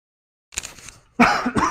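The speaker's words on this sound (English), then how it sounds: "Sorry about that cough." A short throat-clearing cough bursts out, a gap follows, then a louder, harsher second cough, close and dry in a quiet indoor room.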